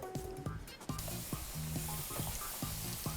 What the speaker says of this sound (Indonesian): Minyaknya aku tunggu panas, baru kita goreng.